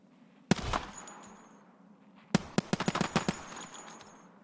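Gunfire in the shooter game Escape from Tarkov, one sharp shot followed after a pause by a rapid burst of about eight loud reports with reverberant tails, no talking.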